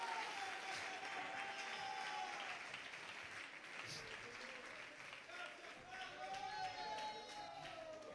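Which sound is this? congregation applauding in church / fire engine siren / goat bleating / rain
congregation applauding in church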